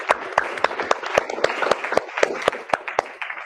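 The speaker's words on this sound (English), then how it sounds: "Let's give them a round of applause." Audience clapping for a panel at a Houston community hearing, sparse and uneven individual claps spread through the room, fairly close and moderately loud, with a brief stray voice or two.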